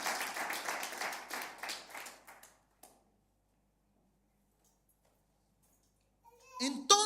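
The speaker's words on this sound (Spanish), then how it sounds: "¿Puedes darle un aplauso al Señor por eso entonces?" A church youth congregation claps for a couple of seconds, a dense patter that fades into silence, before a single voice starts speaking near the end.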